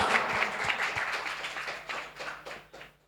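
A talk show audience breaks into applause, with dense clapping that starts full and close, then gradually thins and fades over a few seconds.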